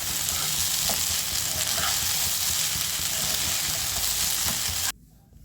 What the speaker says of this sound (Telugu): ఇప్పుడు అటుకులను వేసుకోవాలి. ఒక 2 నిమిషాలు ఫ్రై చేసుకుంటే మనకు చక్కగా ఫ్రై అవుతుంది.